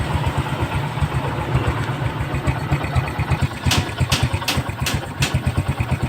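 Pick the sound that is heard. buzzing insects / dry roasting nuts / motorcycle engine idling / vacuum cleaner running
motorcycle engine idling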